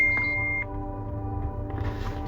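A phone beeps, a single short electronic tone at the start followed by a sustained ringing hum that fades into faint background noise.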